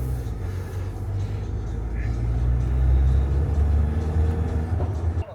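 A bus rumbles past on a road in Latvia, a low steady engine drone that swells slightly mid-pass, heard from inside a motorhome with people talking over it.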